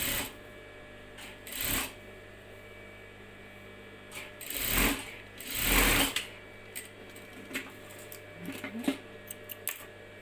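Sewing machine stitching around a girl's dress sleeve, running in several short whirring bursts separated by pauses, close and fairly quiet with small handling clicks between runs.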